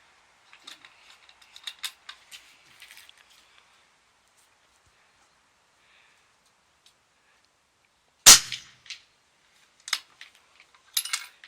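A .308 Win rifle fires subsonic PPU 170 grain soft point cartridges: one sharp, loud report stands alone mid-clip, followed by a few fainter clicks and snaps in otherwise quiet surroundings.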